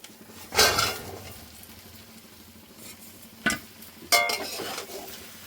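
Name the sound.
stirring chicken curry with potatoes and spices in a pan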